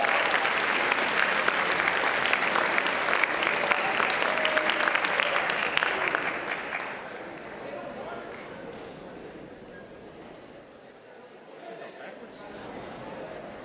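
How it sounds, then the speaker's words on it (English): A big round of applause from a high school audience at a simulated presidential convention, loud dense clapping for about six seconds before fading to crowd murmur and chatter. "I'd like you to give yourselves a big round of applause"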